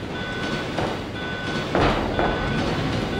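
A train rumbles along in Resident Evil 2, a steady broad roar with faint intermittent tonal beeps and a louder rushing swell midway.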